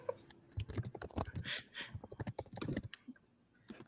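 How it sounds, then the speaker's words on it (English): A team types on computer keyboards, with rapid overlapping key clatter sounding close and busy and no talking. "Our team typing away."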